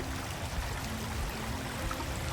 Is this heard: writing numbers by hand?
no